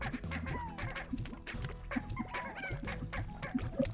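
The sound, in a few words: chickens clucking in video game Slime Rancher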